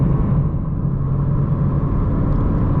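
Steady, loud exhaust drone from a BMW M3 fitted with an IRL midpipe and AA downpipes, heard from inside the car on a drive as a dense low rumble that holds constant with no pauses.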